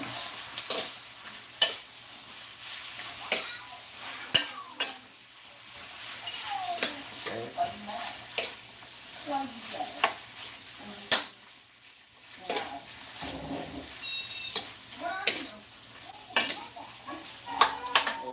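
Shrimp and Chinese sausage fry in a pan in a tomato-paste sauce while a utensil stirs them, giving a soft sizzle under repeated scraping and tapping clicks against the pan.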